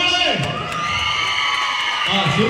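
An audience at a children's dance programme cheers and whoops together, a close crowd of voices rising and falling, with someone talking amid the noise.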